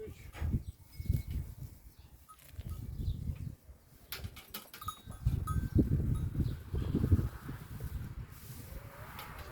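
Young goat kids bleat now and then amid rustling and shuffling of animals close by at a village house, with some faint background talk in Turkish.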